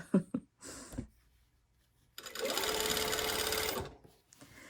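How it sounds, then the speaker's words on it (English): A sewing machine runs a basting line of regular-length stitches along a lapped zipper's lining, whirring steadily for about two seconds after some faint handling noises, with a few light clicks at the end. "when I say I'm basting, I'm using a regular stitch length"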